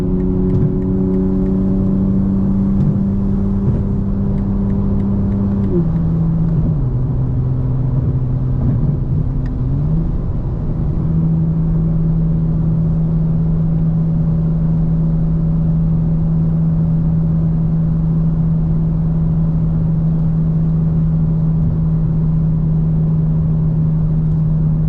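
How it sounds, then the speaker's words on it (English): A 2025 BMW M4 Competition xDrive cruising in fifth or sixth gear gives a steady, low engine drone that dips briefly as revs shift, then settles into an even, continuous hum for the rest of the stretch. "I think 5th and 6th gear, there's a little bit of drone."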